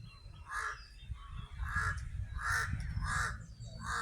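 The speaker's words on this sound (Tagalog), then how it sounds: "Yun, tunog ng uwak yan." A crow caws at a beach resort in Batangas, a series of about five hoarse, evenly spaced calls heard at moderate distance over a low rumble of wind and ambient noise, with no talking.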